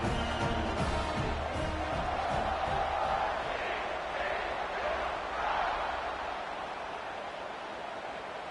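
A college football stadium crowd roars steadily before a kickoff in a Colorado vs TCU game, a dense, continuous wash of cheering that fills the whole stretch without letup.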